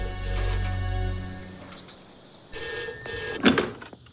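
A telephone rings in short bell-like bursts, with a gap between rings, over soft background music in an indoor drama scene.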